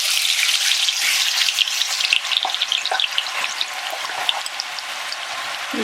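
Coarse onion, ginger and garlic paste frying in hot oil for Punjabi-style rajma masala, a loud continuous sizzle with crackling spatters and occasional stirring.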